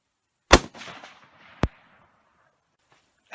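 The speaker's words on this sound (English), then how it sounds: "I got to shoot a Mosin Nagant" A single sharp Mosin Nagant rifle shot, 7.62x54R, fired outdoors on a deer hunt, cracks loud and close and rolls away in a long echo. A second short, sharp report follows about a second later.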